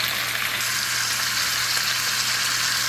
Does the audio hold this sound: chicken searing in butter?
yes